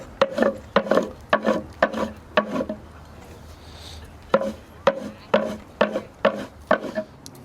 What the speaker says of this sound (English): it's just a process of sort of scraping and pushing like so